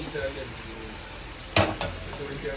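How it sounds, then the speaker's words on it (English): A spoon scrapes and knocks against a pot of coconut run-dung with saltfish cooking outdoors, two clear scrapes over a low bubbling sizzle, with faint background voices. "While that one cook up, stir it up a little bit."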